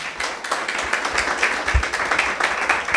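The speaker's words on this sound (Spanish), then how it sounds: "Denle un aplauso al Señor." A church congregation claps and applauds during a worship gathering, a dense, uneven patter of many hands that holds steady throughout.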